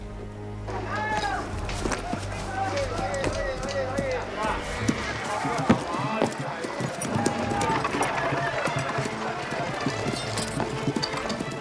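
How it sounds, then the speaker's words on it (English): Horses gallop at full speed carrying two armed men each, the drumming hoofbeats blended into a dense, steady rumble under music and shouting voices throughout. "Each horse will be ridden by two fully armed men and go as fast as it can."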